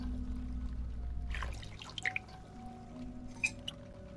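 Distilled water poured in the horror game Song of Horror, a short soft trickle followed by a few faint drips and glassy plinks, quiet and close, no talking.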